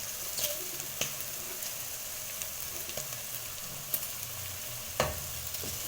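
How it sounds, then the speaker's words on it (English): Peppers frying with chicken in a pan, a steady low sizzle broken by a few sharp clicks and scrapes of a stirring utensil, fairly quiet and without talk. "then add in your peppers, and then stir"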